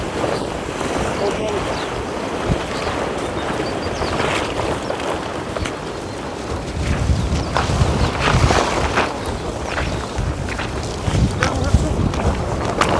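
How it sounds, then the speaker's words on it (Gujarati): Strong wind roars and buffets the microphone in continuous gusts outdoors on a farm while black sesame is winnowed, with a rushing, water-like wash underneath and a voice speaking at times. "આપણે પવન બહુ છે"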